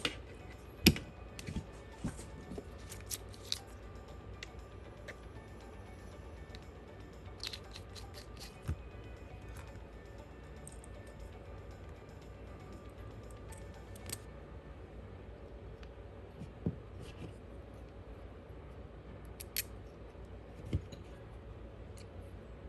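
Wire cutters snip apart servo wires during the build of a Goblin Raw 700 RC helicopter, giving scattered sharp, close clicks and snips over a quiet room hiss, with no talking.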